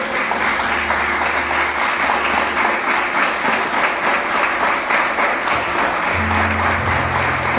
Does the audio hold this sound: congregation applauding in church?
yes